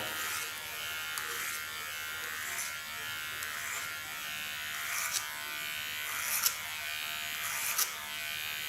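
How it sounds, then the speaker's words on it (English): A Peony electric hair clipper fitted with ceramic blades cuts hair along the sides of the head, giving a steady, quiet close buzz with small swells as it moves through the hair. No one talks. "Using my peony clipper. And I have on ceramic blades"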